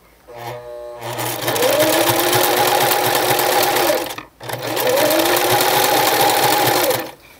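A sewing machine runs overlock stitching on fabric for a skirt, a loud continuous whirring drone in two long bursts separated by a brief pause.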